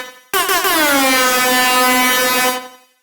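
Synthesized air horn for drum and bass plays alone as one loud, sustained blast lasting about two seconds, bright and brassy with a slight downward pitch bend, ending in a short fade.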